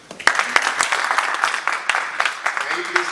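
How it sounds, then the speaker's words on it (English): An audience at an ICAN UK convention applauds a district chair, heard as lively, uneven clapping from a modest crowd with distinct individual claps and a few louder hits, and a voice briefly audible underneath. "Please clap for my chair."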